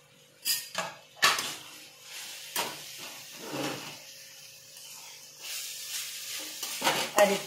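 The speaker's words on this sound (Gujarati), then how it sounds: "આ રીતે આપણે શેકવાની છે। શેકી શેકાઈ જાય ત્યાં સુધી આપણે હલાવ્યા કરશું।" Grated guava roasting in hot ghee in a pan, with intermittent scraping and clinking of a stirring spoon against the pan over a faint sizzle.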